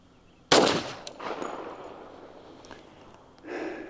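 A single loud, sharp report from a Colt Gold Cup National Match .45 pistol firing commercial ammunition, its crack decaying into a reverberant tail with light clinks and a soft breathy noise near the end.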